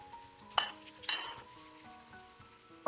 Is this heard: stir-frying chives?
yes